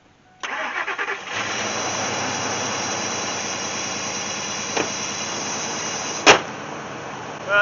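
Old Ford Expedition adventure rig starting on a cold morning in the high 20s to low 30s: a brief cranking chatter, the engine catching with a squeal, then steady close idling, with a sharp knock near the end.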